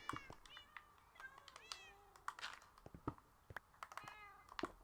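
Cats meowing in the video game Minecraft, a rapid series of short, high meows and longer wavering cries overlapping one another, interspersed with faint clicks, with no talking.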